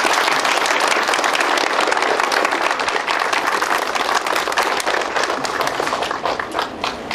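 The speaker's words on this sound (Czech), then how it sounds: "Napřed bychom vám mohli zatleskat" A room full of people at a public town meeting in the Czech Republic claps loudly and continuously, a thick, even wash of applause that thins slightly toward the end.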